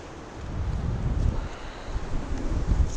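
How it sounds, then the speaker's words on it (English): Outdoor wind buffets a microphone with a steady low rumble that swells and gusts, no other sounds, at an archery shooting session. "hey, it's windy."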